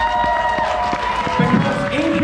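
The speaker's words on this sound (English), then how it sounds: "Please give yourselves a huge round of applause." Convention crowd applauding in a large hall, a dense steady wash of clapping with some cheering, continuous and fairly loud, with a voice speaking over it.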